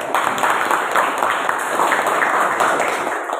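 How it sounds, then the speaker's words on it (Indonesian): Students in a school laboratory class give a round of applause, a dense and steady clatter of many hands at close range that holds evenly throughout. "Tepuk tangan dulu."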